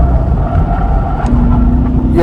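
A 2024 Chevy Corvette E-Ray hybrid is driven hard on a race track. Its engine gives a loud, steady drone that swells slightly near the end, heard from close by.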